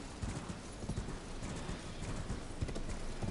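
A horse gallops in the video game Elden Ring, rapid rhythmic hoofbeats thudding in quick succession, close and steady with a brief whinny-like cue, heard alone without talk.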